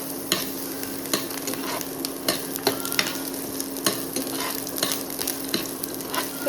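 Chopped onions fry and sizzle in a pan for a Goan clam (tisryo) masala curry, with a steady hiss under repeated clinks and scrapes of a spoon stirring at an irregular pace, close and fairly loud with no talking.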